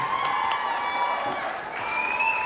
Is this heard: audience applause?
yes